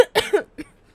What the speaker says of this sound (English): I've been fighting this nasty cough for like a week and a half.